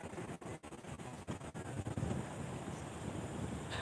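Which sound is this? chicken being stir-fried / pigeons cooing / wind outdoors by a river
wind outdoors by a river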